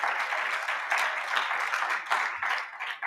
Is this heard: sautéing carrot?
no